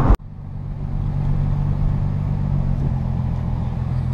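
Nissan 350Z with a VQ engine and Tomei exhaust cruising in sixth gear just under 2,000 RPM, a steady low exhaust drone and road rumble held throughout after a brief opening knock.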